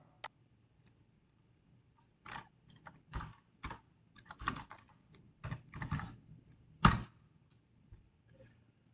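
Fingers tap a computer keyboard in short irregular bursts of crisp clicks, a few isolated keystrokes then a busier cluster, close and quiet in an otherwise silent room.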